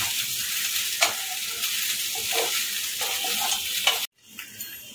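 Poha flakes with a few peanuts are gently stirred in a frying pan, giving a steady broadband sizzle with soft scraping strokes about once a second, ending abruptly near the close.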